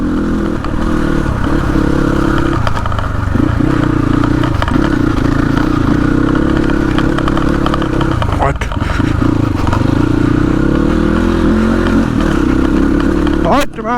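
A motorbike rides a dirt trail in Nuwakot, its engine droning steadily close by for the whole stretch, with clatter and scraping from the rough ground and voices talking over it.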